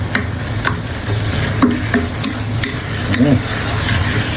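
Spicy frog stir-fry with green peppercorns sizzles loudly in a pan while a utensil scrapes and clinks against the metal in irregular strokes, close and continuous without speech.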